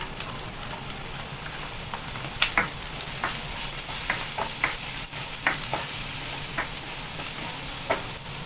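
Garlic fries in a hot pan with a steady close sizzle and frequent small pops and crackles, loud and even throughout, with no talking.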